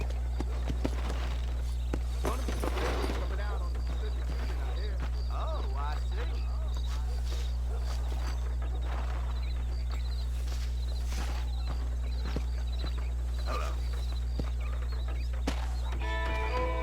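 A horse-drawn carriage in Red Dead Redemption clip-clops along at a steady walking pace, its hoofbeats faint beneath a constant low hum and a voice speaking over it.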